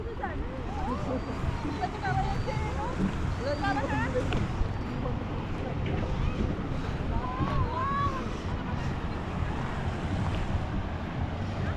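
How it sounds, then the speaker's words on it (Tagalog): Strong river current rushing in the water at Gabaldon, Nueva Ecija, a loud continuous wash and churn heard close up, with people's voices and shouts breaking in over the top. "Ang lakas ng tubig dito."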